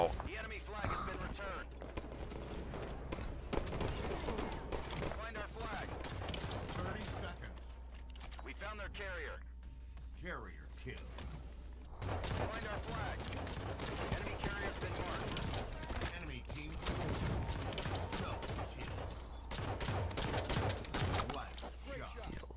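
Rapid gunfire in Halo 5 during a capture-the-flag match, steady bursts of shots running through most of the stretch with a brief lull, heard beneath excited, cursing player chatter.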